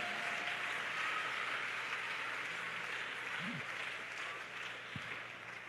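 Church congregation applauding during a sermon, a faint, distant, steady wash of clapping that slowly fades, with a couple of brief murmured voices underneath.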